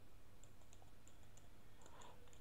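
A command is typed on a computer keyboard: a string of light, quick key taps, faint against a steady background hum, ending in a brief flurry of clicks.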